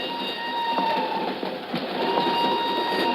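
A radio drama sound effect renders a northbound passenger train rolling out of Lisbon as a continuous rumble with faint rhythmic clicks of the wheels, steady throughout and without talk.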